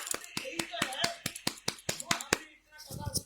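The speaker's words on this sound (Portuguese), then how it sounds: "Por favor, salva de palmas" Scattered, uneven hand claps from a small gathering at an evening Harikatha spiritual talk in Vrindavan, India: a dozen or so sharp, close slaps spread over a few seconds, then a brief murmur of voices.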